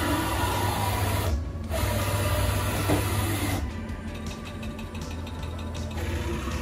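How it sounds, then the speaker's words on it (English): A CNC engraving machine cuts mirror dots into a gold bangle with a 3 mm circle tool, giving a steady mechanical whir and hum with a brief dip and then rapid repeated ticking toward the end. "that tool will engrave the frames of the mirror dots"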